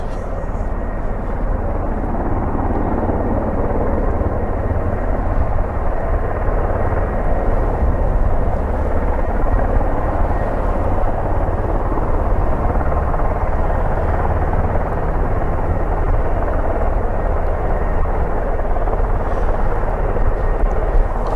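A helicopter's rotors spin up at an airfield, the rotor and engine roaring steadily and loudly throughout, a dense continuous whir with no voices.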